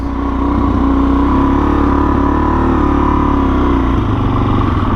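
A motorcycle with a freshly filled tank rides steadily, its engine droning loud and close with a constant hum throughout and no talking.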